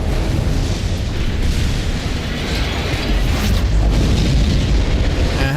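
A loud, sustained rumbling boom of a big gun blast in the Armored Core 6 mech combat game, with dense low-end roar and crackling debris throughout.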